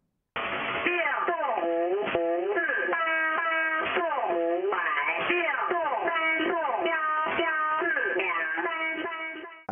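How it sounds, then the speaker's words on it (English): A radio broadcast from the VC01 Chinese Robot number station in its slower variant: a synthetic, warbling electronic voice reads a steady sequence of tonal syllables, loud and continuous over a quiet background. "This over here is something called VC01, the Chinese robot."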